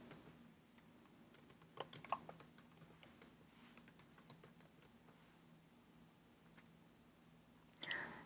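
Computer keyboard typing of an SQL query, a close, fairly quiet run of irregular key clicks in quick bursts over the first five seconds, then a few scattered taps and a final click.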